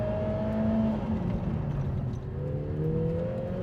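Lotus Emira fitted with an AMG four-cylinder turbo engine revs up, its tone rising and taking on a harder, sharper edge as the revs climb, loud and steady with no talking.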